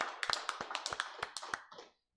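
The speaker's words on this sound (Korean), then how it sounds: "하나님께 영광의 박수 돌려드리겠습니다" A church congregation claps during a Sunday service at a Full Gospel church, a quick run of about a dozen sharp, fairly close claps in uneven rhythm that stops abruptly.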